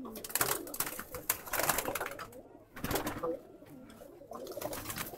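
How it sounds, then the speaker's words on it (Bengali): A male racing pigeon coos in a loft, with soft, repeated throaty coos rising and falling over several seconds, fairly close and clear, with brief quiet gaps between phrases. "এই যে একটা নর কবুতর, পায়ে একটা লাল রঙের ট্যাগ আছে।"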